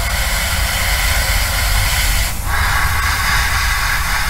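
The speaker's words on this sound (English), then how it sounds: "spraying a coat of track dirt or ballast grime or whatever you want to call it over it." An airbrush sprays track dirt weathering paint onto a 16-ton model wagon, giving a steady, close, continuous hiss with a slight shift in tone partway through and no talking.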